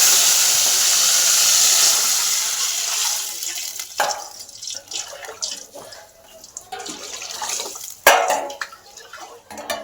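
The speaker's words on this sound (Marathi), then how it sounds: "जिरं लाल झालं पाणी टाकून" Water hits a hot pan of browned cumin seeds for palak bhaji, setting off a loud, steady hiss that fades into spattering sizzles, with a sharp flare near the end.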